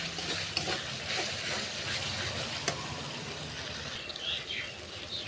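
Chicken curry masala with tomato sautéing in oil in a home kitchen, a steady, close sizzle and hiss throughout, broken by a couple of sharp utensil scrapes or clicks.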